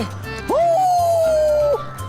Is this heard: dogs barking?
yes